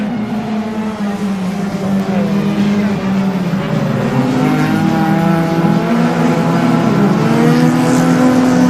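Several Nissan March race cars in a standard-class event at Cavalry Supercross 2016 accelerate away from the start, a dense, steady roar of multiple engines climbing in pitch, fairly close and continuous throughout.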